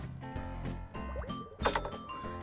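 Water gurgles and splashes as a hollow toy is filled at a playground, brief bubbling and pouring sounds over a couple of seconds, fairly faint.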